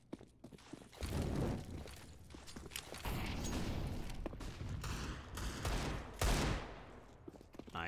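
Rapid bursts of gunfire ring out in a Counter-Strike match on the Mirage map, including Desert Eagle shots. The dense, loud volleys repeat over background game noise.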